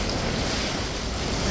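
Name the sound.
rushing floodwater during Hurricane Melissa in Jamaica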